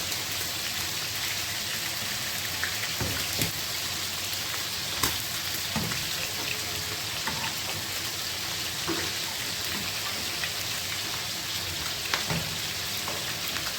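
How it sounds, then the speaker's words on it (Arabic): Chicken liver fries in a pan, giving a steady, even sizzle with scattered small pops and crackles throughout, close and moderately quiet, with no voices. "وفي نفس الطاسة هنبدأ ننزل بالكبد بتاعتنا"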